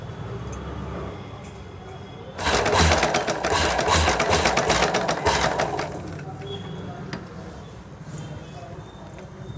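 Sewing machine stitching a boat-neck blouse, a rapid steady clatter running for about three and a half seconds over low background hum, with quiet room noise before and after.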